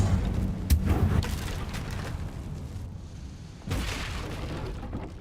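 The Incendio fire spell is cast in Hogwarts Legacy with a sudden whooshing burst and rumbling flame, then a second fiery blast a few seconds later, both loud and close.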